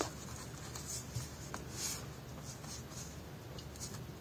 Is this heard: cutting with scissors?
yes